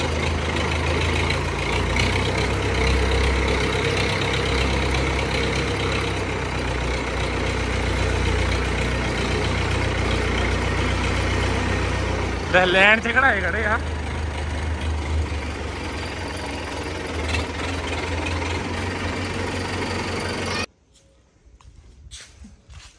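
Several parked tractors idle together, producing a continuous low engine rumble, with someone speaking briefly over it before the sound cuts off near the end.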